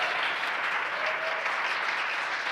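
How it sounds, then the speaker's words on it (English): Applause in SpaceX mission control in Hawthorne during a crew launch: a sustained, even wash of clapping from a room full of people, moderately distant, with no speech over it. "You hear the applause here in Hawthorne."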